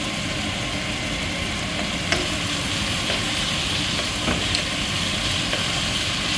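Green chilies frying in a hot pan for a rabbit pepper masala roast, giving a steady, even sizzle that runs without a break, with a few faint clinks of utensils, close and fairly loud.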